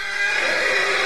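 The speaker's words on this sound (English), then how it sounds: "I haven't heard the horse in a while." A horse whinnies loudly and close, one sustained high, wavering neigh filling the short moment alone without talk.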